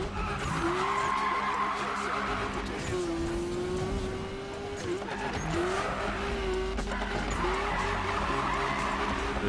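Tires squealing as a Lamborghini drifts through curves in Need for Speed on PS4, long rising and falling screeches over a steady engine drone, continuous and fairly loud.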